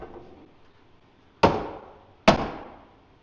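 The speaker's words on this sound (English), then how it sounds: "See, it's fun hitting stuff with a hammer, isn't it?" Two sharp, loud hammer strikes on a crashed car's body parts ring out about a second apart, each decaying quickly into a quiet workshop background.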